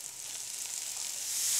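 Bell peppers sizzle steadily in a hot pan with browning garlic and onion, a bright continuous hiss that swells slightly toward the end, with no voices.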